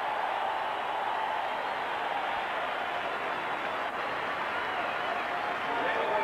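Stadium crowd noise at a 1987 playoff game between the St. Louis Cardinals and San Francisco Giants as the Cardinals' manager is introduced, a steady roar with indistinct cheering, far and continuous.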